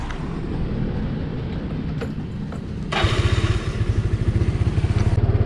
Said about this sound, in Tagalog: Try natin paandarin.